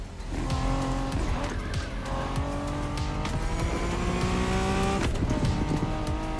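BMW Z4 M40i roadster driving in The Crew Motorfest, with a loud, steady engine note rising through gears and tires squealing and skidding throughout, no talk.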